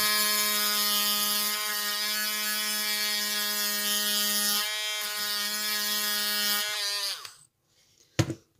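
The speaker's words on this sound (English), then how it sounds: "I'm going to take my Dremel, and then I'm just going to, like, start sanding the bottom" A Dremel rotary tool whines steadily up close, its pitch dipping slightly as it sands the bottom of a dentalium shell, then spins down, followed by a couple of clicks.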